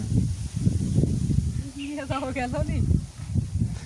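Wind gusts across an open village field, rumbling and buffeting in uneven low bursts throughout while a person talks over it.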